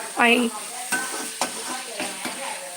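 Radish stir-fried in a pan, with a quick sizzle and a few stirring scrapes of a spatula against the metal over a steady frying hiss, close and fairly loud.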